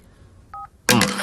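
A phone is being dialled. A single short keypad tone is followed by a louder, longer burst of dialling tones, with nothing else in the quiet background.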